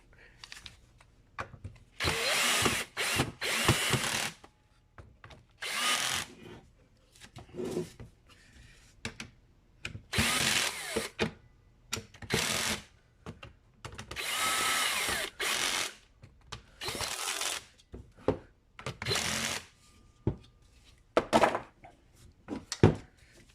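A Mastercraft electric drill set to torque 2 drives a screw in repeated short, loud whirring bursts separated by quiet gaps, with occasional speech between them.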